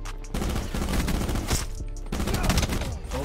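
Rapid automatic gunfire from a gun in an online video game, loud bursts rattling almost continuously across the clip with brief pauses between strings of shots.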